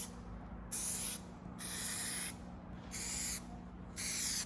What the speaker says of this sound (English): And I'm spraying every single seam.